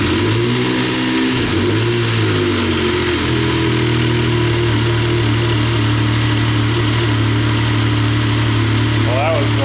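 A freshly rebuilt Yamaha YXZ side-by-side engine fires up for the first time, cranking briefly before catching into a loud, steady idle with rising revs, close by and filling the whole stretch.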